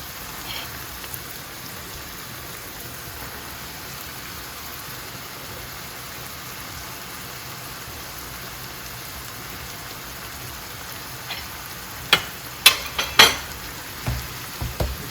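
Roasted peppers cooking with sautéing onion in a pan give off a steady soft sizzle, with a few sharp clinks of a utensil near the end.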